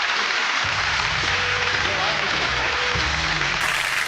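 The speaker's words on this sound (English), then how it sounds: "All right, round of applause, Jeff." A studio audience on a TV game show applauds in a dense, steady wash of clapping, with a voice speaking faintly underneath.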